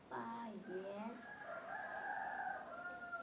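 A rooster crows in a rural village, one drawn-out cock-a-doodle-doo rising and holding for about three seconds, fairly close and clear with faint background ambience.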